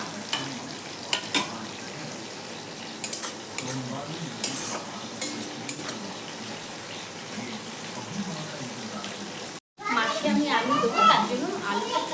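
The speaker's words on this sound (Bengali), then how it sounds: "এই দুটো একটু ভাজা হোক" Shrimp frying in a pan, a soft sizzle with the repeated clatter of a utensil stirring, then after a brief cut a louder, busier stretch of frying with some speech in the background.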